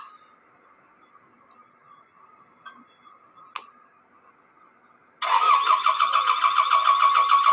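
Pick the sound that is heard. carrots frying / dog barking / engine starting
engine starting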